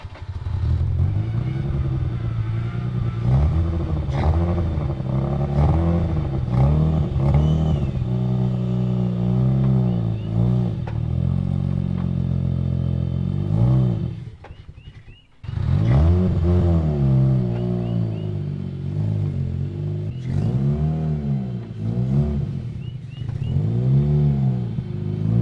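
A Mazda RX8 rotary engine runs and revs close up, a loud, steady burbling idle with rising and falling revs, briefly dipping before picking back up.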